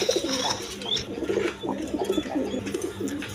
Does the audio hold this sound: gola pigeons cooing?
yes